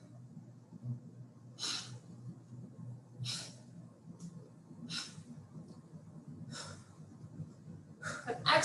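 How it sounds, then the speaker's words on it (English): Steady rhythmic breathing during a pilates leg exercise on a mat, with five or six distinct breaths, exhales and inhales, spaced about every one and a half seconds. They sound close and soft over a low background hum. "I'm exhaling as my leg comes out, and then inhaling as my leg comes back in"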